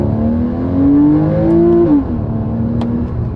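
A Porsche Cayman 981 with a 275 hp flat-six engine revs up close, its tone climbing smoothly and holding before dropping sharply back toward idle, with a couple of faint clicks afterward.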